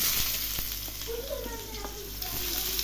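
Chopped onion tossed into hot oil in a frying pan for leftover-chapati noodles, sizzling and crackling steadily throughout at close range, with light stirring scrapes and no voices.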